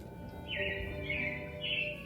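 Soft, high robin chirps, from an animatronic on Walt Disney World's Carousel of Progress ride, sound twice over a quiet background, faint and somewhat distant.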